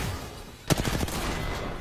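Video game gunfire shooting through a shield: a sharp shot followed by a quick run of rapid pops that fade over about a second, heard over a steady game background with no talk.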